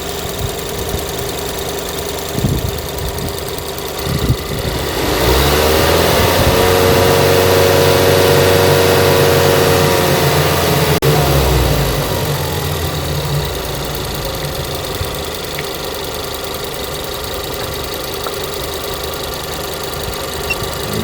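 A car engine is revved up to about 2,500 rpm during a battery load test, rising from idle into a loud, steady raised hum that holds for several seconds before dropping back to a quieter idle.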